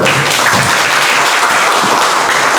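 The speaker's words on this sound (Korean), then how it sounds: "박수 한번 해주십시오." Audience applause at a youth unification-education forum in Seoul, a steady dense wash of clapping filling the room for a few seconds without talk.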